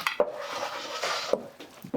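Orzo salad is tossed with dressing in a bowl, giving a close, quick run of soft wet stirring and light utensil clinks over about two seconds, with no talk.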